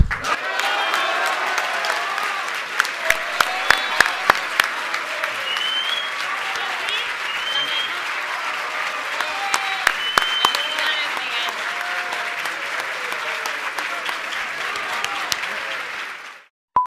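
Sustained applause from a group of officials greeting the announcement of Joaquín Guzmán Loera's capture, a steady roar of clapping with sharper individual claps standing out, and voices murmuring beneath before it cuts off abruptly at the end.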